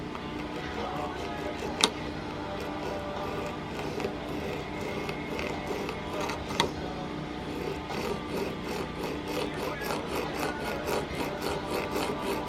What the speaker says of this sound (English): put it into a vise to hold it in place so that we can file this